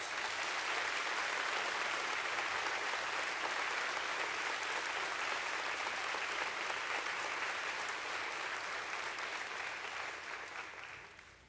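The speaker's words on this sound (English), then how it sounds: "Can we please give her another round of applause?" Dense, even applause fills a school veterans assembly hall for a student cadet receiving a challenge coin, a continuous wash of clapping that holds steady before fading out at the close.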